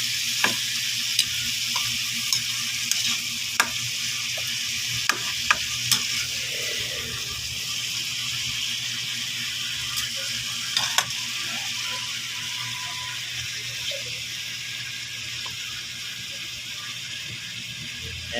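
A home-cooked dish sizzles steadily in a frying pan while a utensil stirs it, scraping and clinking at irregular intervals, close and moderately loud.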